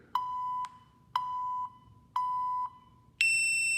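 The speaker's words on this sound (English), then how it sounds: "It will beep every minute to tell you to move on to the next movement section" A workout app's countdown timer on a phone sounds three identical sustained beeps at even one-second intervals, then a final higher-pitched tone, loud and close against faint background hiss.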